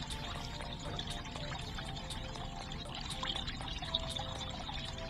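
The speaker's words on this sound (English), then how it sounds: "Get that water flowing" Water pours and trickles steadily in the Flow Water 3D fountain puzzle game, a continuous close splashing stream with small repeated drips and clicks.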